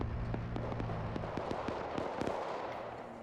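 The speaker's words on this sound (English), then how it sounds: "airstrike's coming in" Airstrike explosions in a combined-arms military video game pound in a fast, uneven barrage of sharp blasts and crackles over a steady low rumble, loud and continuous throughout.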